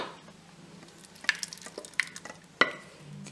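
Tomato kulambu (thakkali kadaisal) being mashed and churned in a pot, giving a few sharp clacks and wet stirring scrapes over a quiet background, with no talking.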